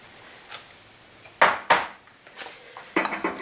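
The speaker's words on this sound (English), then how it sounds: "And I'm just going to stir that together." Raw chicken chunks seasoned with kosher salt being stirred together in a bowl, giving a few sharp clinks and scrapes of a utensil against the dish, with quieter rustles between them.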